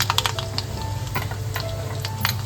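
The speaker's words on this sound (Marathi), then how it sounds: "कढईमध्ये तेल घातलंय आणि राई घालून घेतोय एक चम्मच" Mustard seeds pop and crackle in hot oil in a kadhai, with quick irregular ticks over a low, steady sizzle.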